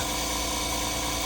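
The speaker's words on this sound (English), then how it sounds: "What you hear there is the fan motor." A truck's radiator fan motor gives a steady, continuous hum with a constant drone and no change in pitch or volume, the fan not moving air.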